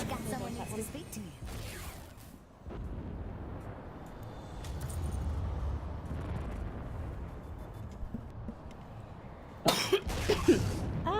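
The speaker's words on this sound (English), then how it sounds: "I didn't mean to cough in everyone's ears." Someone playing Wildstar coughs close into a microphone, short harsh bursts at the start and a louder cluster near the end, with muffled noise between.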